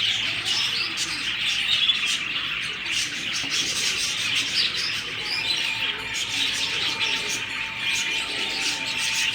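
Java sparrows in an aviary, pairing up and hopping around, fill the air with a dense, continuous chorus of high chirps and tweets. Softer cooing calls mix in throughout, all at moderate distance.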